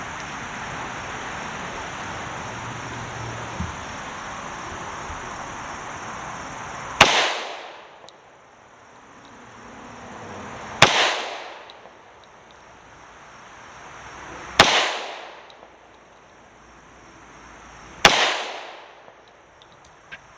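Four sharp, loud Tokarev pistol shots fired outdoors, spaced a few seconds apart, each crack followed by a brief echoing decay over faint background noise.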